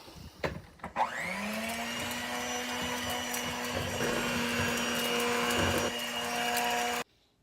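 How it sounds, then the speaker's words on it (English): An electric hand mixer whirs steadily for about six seconds while beating caramel pecan roll dough with an added egg, a sustained motor hum that starts after a few clicks and cuts off abruptly. "we're going to mix this all together with the electric mixer for a couple minutes"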